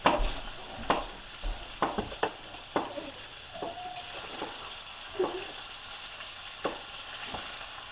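Sausage browns in a pan for Southern cabbage, a soft steady sizzle punctuated by repeated utensil knocks and scrapes against the pan, close and fairly quiet, without talk.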